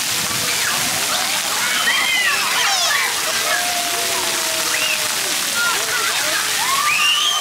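Water splashes and sprays steadily at a park splash pad at Elizabeth Porter Park in Atlanta, a continuous wet hiss with children's shouts and squeals over it throughout.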